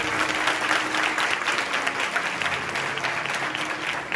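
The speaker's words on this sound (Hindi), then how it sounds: "अगर तालियां बजानी तो सारे बजाए" Congregation at a church sermon in Sahiwal clapping together, a steady, dense round of applause at moderate volume with no speech over it.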